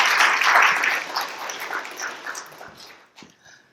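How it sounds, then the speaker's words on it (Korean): A church congregation at Sunday worship applauds to welcome a missionary, a loud burst of clapping that fades out over a few seconds. "여러분 우리 선교사님 큰 박수로 환영해 주시기를 바랍니다"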